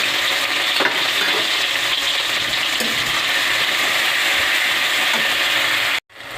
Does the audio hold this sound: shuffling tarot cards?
no